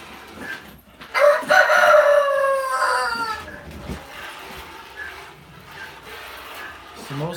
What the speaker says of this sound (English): As I say that, the roosters go